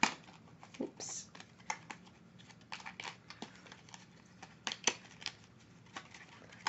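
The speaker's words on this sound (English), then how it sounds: "I've never shuffled heart-shaped cards, so please bear with me." Heart-shaped tarot cards are shuffled by hand, giving quiet irregular riffling and sliding card noises in short bursts, close and soft, with faint background hiss.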